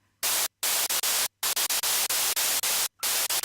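Loud bursts of harsh white noise in a hardstyle music track, chopped into rhythmic blocks with brief silent gaps, filling the whole clip.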